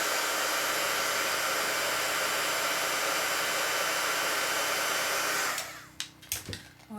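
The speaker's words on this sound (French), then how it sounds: "je vais utiliser le pistolet chauffant pour que ça sèche un peu plus rapidement." A heat gun dries Perfect Pearl shimmer powder on rubber stamps with a loud, steady, close blowing roar for about five and a half seconds, then cuts off, leaving a few light knocks and handling sounds.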